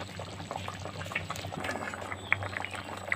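A banana flower curry simmers with fried fritters added to the water, giving a soft continuous bubbling with small pops and liquid splashes close by, fairly quiet and without talk.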